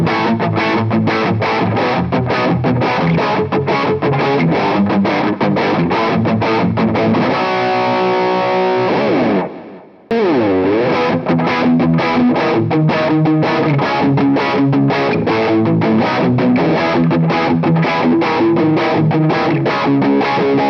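A gritty, overdriven semi-hollow electric guitar (Firefly FF338 PRO) chugs out a driving rock rhythm, loud and continuous, briefly cutting out near the middle before the riff resumes.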